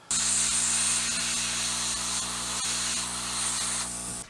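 A heat gun shrinks heat shrink tubing over wires on a replacement memory battery in a classic ham radio, giving a steady, loud airy hiss with a constant motor hum that runs unbroken for several seconds.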